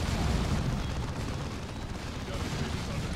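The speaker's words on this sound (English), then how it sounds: "that thing has a massive explosion radius" Demolition charges detonating in Warhammer 40k Dawn of War II, a loud, sustained booming rumble with heavy low-end that stays dense and roughly even for several seconds.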